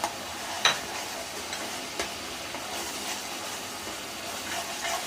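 Whole spices and almond paste frying in a pan for chicken roast, with a continuous soft sizzle and occasional scraping and clinking stirs, moderately quiet and close.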